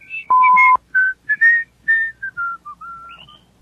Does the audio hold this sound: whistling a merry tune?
yes